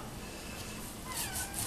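A cat meows for steak, a few short, close meows near the end over a steady background hiss.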